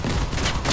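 Machine guns in the vehicle combat game Crossout fire a rapid dense burst of shots, loud and continuous across a short stretch, with no talk over it.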